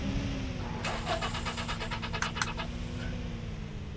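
A car engine in the video game PUBG Mobile, a steady mid-pitched hum that runs throughout with a rougher, revving burst in the middle.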